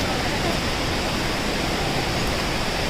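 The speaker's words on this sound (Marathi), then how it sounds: "शेवटचा धबधबा बघितला मंडपी कडा धबधबा" Mandapi Kada waterfall near Kadgaon in Kolhapur roars in a constant, dense broadband rush of falling water, loud and unbroken throughout.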